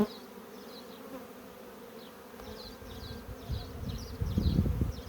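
Honey bees buzzing steadily as foragers enter a new plastic-bottomed hive, a dense close drone that grows louder and fuller toward the end, with no voices.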